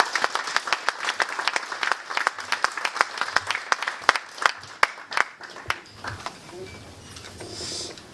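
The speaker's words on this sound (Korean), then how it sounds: "뜨거운 박수 부탁드리겠습니다." A lecture audience at an executive leadership academy claps warmly to welcome a guest speaker, with dense, sharp applause for about six seconds before it thins into scattered claps and quiet room murmur.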